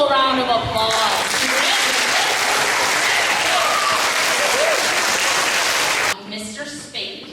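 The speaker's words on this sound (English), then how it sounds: "So I think these double All-Stars deserve a double round of applause." School audience at an All-Stars award ceremony bursts into loud, sustained clapping for about five seconds after a brief spoken introduction, then fades abruptly as a speaker resumes talking.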